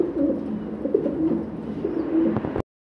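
Pigeons at a pigeon farm coo steadily, with a soft, continuous murmur of overlapping low calls until the sound cuts off abruptly.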